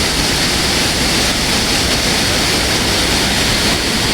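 Loud, steady roar of heavy water pouring over open dam gates and crashing, a dense continuous rush with no pauses and no voices.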